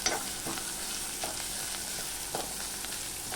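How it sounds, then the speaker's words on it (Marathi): Onion with salt and turmeric sautéing in a pan while being stirred, giving a soft, continuous sizzle with occasional light scraping stirs. "आता याच्यातच आपण मीठ टाकून घेतलेलं आहे थोडीशी हळद व्यवस्थित परतून घ्यायचे"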